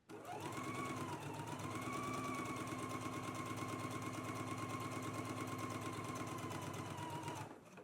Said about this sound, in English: So now I can go to the sewing machine and go ahead and stitch my hems in place.